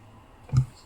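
A single short computer mouse click lands near the end, a brief soft tap against quiet room background.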